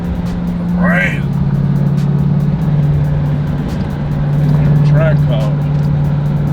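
A Jeep Grand Cherokee Trackhawk with a new cold air intake drones steadily from inside the cabin, a low sustained engine tone with slight pitch shifts, while people talk over it.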